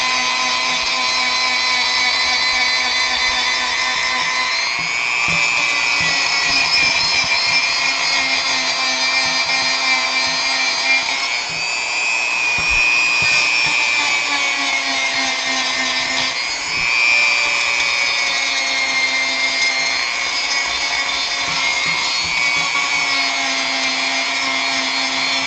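A handheld power tool roughs up the surface of a wooden model base in a workshop, a steady loud whir running continuously with slight pitch dips and shifts as pressure changes, no voices over it.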